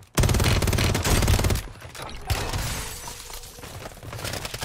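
Dense, loud bursts of automatic gunfire in a video game shooter crackle almost nonstop, then ease into scattered shots and rattling impacts over the last few seconds.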